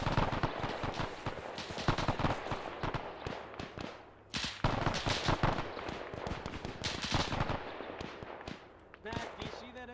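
An MG42 machine gun fires in a World War II Arma 3 battle as dense, rapid bursts of gunfire crackle close and loud, pausing briefly before resuming, with voices mixed into the chaos.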